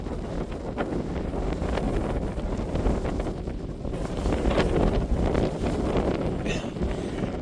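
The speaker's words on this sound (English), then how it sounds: "Bloody windy." Strong wind of about 70 mph on Pendle Hill buffets the microphone in loud, continuous gusts, roaring and rumbling throughout with no other clear sounds.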